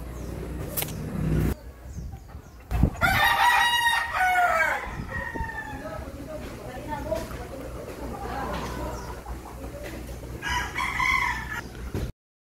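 Roosters crow loudly, one after another, with hens clucking around them and a low background rumble throughout, during a typhoon evacuation with chickens placed on tires.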